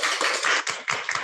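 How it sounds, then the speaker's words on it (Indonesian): Classroom applause during a physics teaching-practice lesson on dynamic electricity, a short burst of hand claps in three quick surges, close and fairly loud with no talking. "Oke, tepuk tangan."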